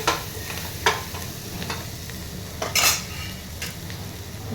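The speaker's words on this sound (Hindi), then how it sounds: "तो चलिए मसाला भी अच्छी तरीके से भुन गया है।" Masala frying in a pan while a spoon stirs it, a continuous crackling sizzle broken by several sharp metallic scrapes and clinks against the pan, close and moderately loud with no talk.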